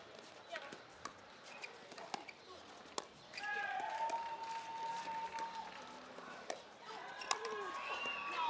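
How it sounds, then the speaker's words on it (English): At a pickleball match in Rome, a crowd breaks into cheering and applause after several sharp paddle-and-ball pops, with whistles and shouts rising over the noise. A commentator talks throughout. "Listen to the crowd."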